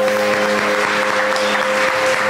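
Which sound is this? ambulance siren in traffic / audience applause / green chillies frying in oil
audience applause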